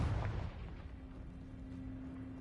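A Confringo explosion spell goes off in a video game, a deep booming blast at the start that quickly fades into a low rumbling hum.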